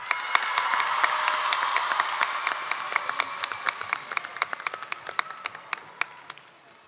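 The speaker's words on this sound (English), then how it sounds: "I want to hear a real loud round of applause for all our phenomenal contestants" A crowd applauds loudly in a dense wash of clapping that gradually thins into scattered individual claps as it fades.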